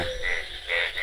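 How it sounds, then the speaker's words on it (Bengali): Frogs croak in a rain-filled village pond, giving a quick run of rhythmic, fairly close calls that pulse about three times in a second over a low, steady hum. "আর পুকুরের মধ্যে আছে খালি ব্যাঙে ডাকতেছে"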